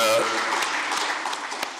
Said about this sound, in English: Let's give my panel a round of applause.